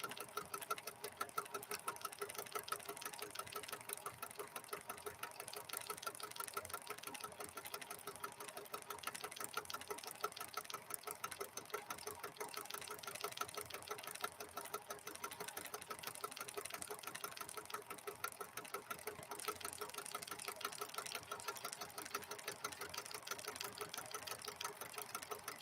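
PFAFF 7530 sewing machine running continuously at a steady pace, a dense even mechanical whirring with a fine rapid ticking rhythm, moderately close and alone.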